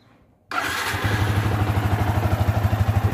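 A motorcycle engine cranks and catches abruptly, then settles into a loud, steady idle with a pulsing mechanical chug, heard up close and without speech.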